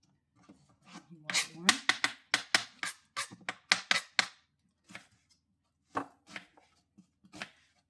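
Knife slicing an onion on a plate while preparing fish paksiw, a series of crisp quick cuts in bursts with short pauses between, close and fairly quiet.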